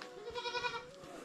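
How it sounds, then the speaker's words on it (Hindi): Goats bleating on a hillside farm in the mountains as the herd is untied for a trip to the forest; a single wavering bleat, moderately close, heard alone over faint background. "होगी हमारी बकरियों की जंगल जाने की तैयारी। सभी बकरियां खोल दी है।"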